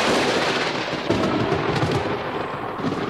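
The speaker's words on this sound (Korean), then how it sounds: "시커먼 구름이 몰려오고 비바람이 휙휙 몰아치면서 번개가 번쩍이고 천둥이 쳤어요" A storm with rolling thunder, used as a sound effect in a children's story, gives a loud, continuous deep rumble and roar with no pause.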